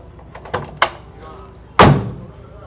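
Door of a handbuilt Le Mans Hypercar replica: two light clicks of the latch, then a solid, heavy thunk as it shuts, close and clear.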